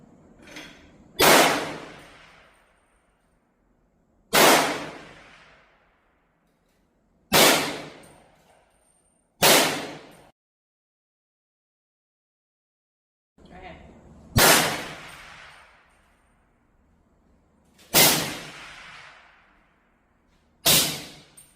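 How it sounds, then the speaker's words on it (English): Rifle rounds, both standard velocity and subsonic, are fired one at a time as seven sharp, loud reports spaced a few seconds apart, each ringing off briefly into quiet, with no talking between them. "We're going to do 2 rounds standard velocity, 2 rounds subsonic, and then we're going to repeat the process going suppressed."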